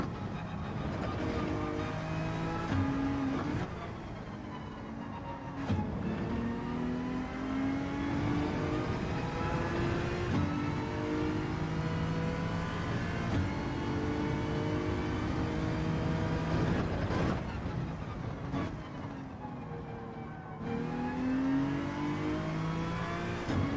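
Ferrari race car in Gran Turismo 7 accelerating hard, a steady loud engine whine with rising pitch sweeps as it climbs through the gears, brief dips at each shift, no voices.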